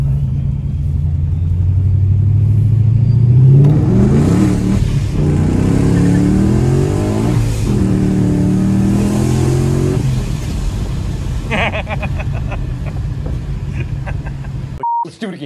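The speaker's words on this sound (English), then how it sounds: "This is a 2016 Mustang GT Pro Charged with over 600 horsepower at the wheels. Check out these pulls." A supercharged 2016 Mustang GT making over 600 wheel horsepower pulls hard on a wet road, its loud engine roar rising in pitch through gear changes, heard from inside the car with voices talking over it.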